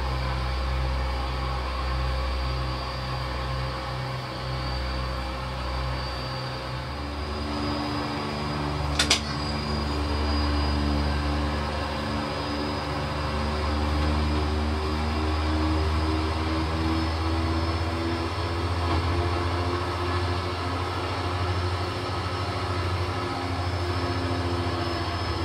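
Aircraft engine droning steadily through a landing with flaps extended, low hum with slowly shifting tones and a sharp brief click midway, no voices.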